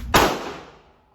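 A single gunshot from a high-powered gun at a shooting range cracks loudly and sharply close by, then rings and fades over about a second.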